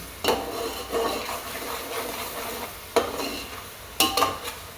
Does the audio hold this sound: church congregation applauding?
no